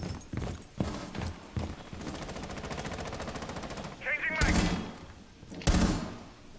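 Automatic gunfire in the tactical shooter Rainbow Six Siege, a rapid rattling burst of shots mid-clip followed by a few loud separate bangs, with a voice speaking briefly at the start.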